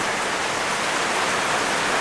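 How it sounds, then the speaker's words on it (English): Rain falls outdoors in a dense, steady hiss on a patio table and the surrounding surfaces, loud and close, with no talk and no breaks. "The rain comes down over here, runs there, drops in the middle of my table."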